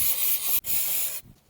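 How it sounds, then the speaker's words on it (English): Brake cleaner sprayed onto a painted brake caliper on a Wagon R+ gives two loud, close hissing bursts, the first long and the second shorter after a brief break, with no talking. "apply some brake clean to clean all that mess you made up"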